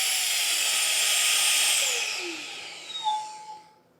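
A MECO cordless air duster whines at its third speed, a loud steady high-pitched rush that fades out after about two seconds, followed by faint clicks and brief whistling tones as it winds down.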